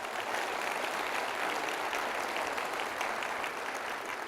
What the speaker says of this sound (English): Give him applause for that.